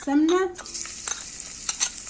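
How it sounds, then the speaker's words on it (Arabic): Garlic drops into hot ghee with a sharp hiss, then settles into a steady sizzle of frying with light stirring scrapes. "السمنه بتاعتي سخنت، حطيت بقى فيها الثوم على الكزبره الناشفه"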